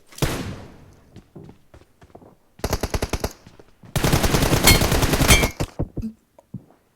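Gunfire in the mobile game PUBG Mobile, a team deathmatch: a sharp opening shot, then a short automatic burst and a longer rapid burst, loud and close, with a few thuds between.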